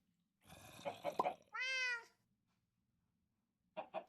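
A video-game cat gives a clear, drawn-out meow that rises and falls, with a rustly vocal burst just before it and another short cat sound at the end, isolated against silence.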